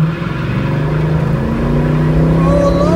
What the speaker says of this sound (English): Listen to the engine and see if it knocks in things.